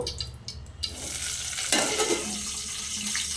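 Green chillies hit hot oil in a pan, setting off a loud, steady sizzle with a sharp burst of spitting partway through, joined by faint scraping and clinking while cooking for gongura chicken curry.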